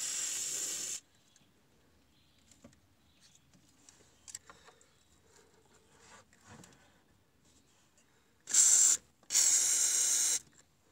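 Short hissing bursts of WD-40 aerosol spray under a Toyota MR2 during fuel tank removal, one at the start and two near the end, separated by quiet rustling and faint handling noises.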